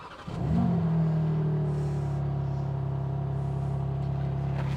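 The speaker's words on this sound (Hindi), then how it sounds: "मैं आपको एग्जॉस्ट नोट जो है वो सुनाता हूँ।" A BMW M4 Competition with a 3-litre engine starts up: a quick crank and catch flare into a loud rev, then it settles into a steady, deep idle burble from the exhaust that holds to the end.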